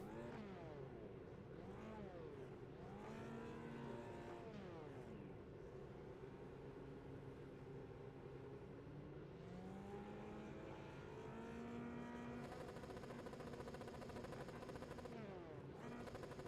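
Formula 3 race cars on the grid in a racing video game rev their engines. Several overlapping engine notes rise and fall repeatedly, continuous but faint.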